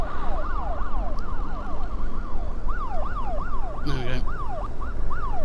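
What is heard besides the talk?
weak vehicle siren in racing video game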